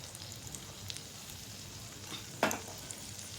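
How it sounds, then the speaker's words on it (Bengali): Spoonfuls of egg batter for a chicken omelette frying in hot oil, a faint, even sizzle throughout with one brief sharper crackle near the end, heard close and alone. "তেলটা গরম হয়ে গেছে আমি এখন এই ডিমের গোলাটা এই ডিমের গোলাটাই চামচে করে এর মধ্যে অল্প অল্প করে একটু দিয়ে দিচ্ছি"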